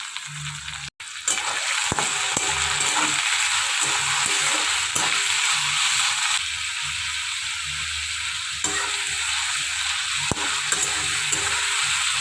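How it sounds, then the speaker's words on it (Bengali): Potatoes fry in a wok with a steady, loud sizzle and occasional stirring clicks, continuous throughout with no talking. "আলুটা এই যে এখানে ভাজা হচ্ছে, হতে থাকুক।"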